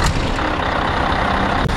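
A Scania V8 truck engine, a Torpedo-style model, roars loud and steady at close range with a dense low rumble, with a brief dip right at the end.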